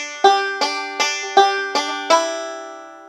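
Bluegrass banjo picking forward rolls, with a fretted note on the first string, on the hymn What A Friend We Have In Jesus: six bright, evenly spaced plucked bursts, the last left ringing out, close and clear with no talk.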